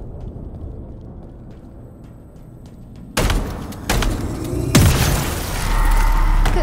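Explosions follow the destruction of a Banished gun generator in Halo Infinite: a quiet rumbling hum gives way to a series of loud, heavy booms and blasts that build into a sustained roaring detonation.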